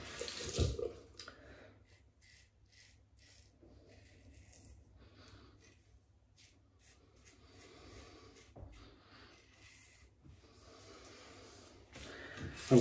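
Running tap water rinsing a 1960s Gillette Techmatic safety razor during a wet shave, a soft steady trickle with faint clinks and splashes, quiet and close, with no talking.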